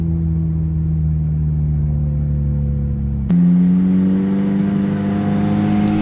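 A Ferrari climbs a steep, narrow, winding road toward a medieval castle. Its engine drones steadily, then a sudden shift midway gives a brief jump, and the revs start building again. No one speaks.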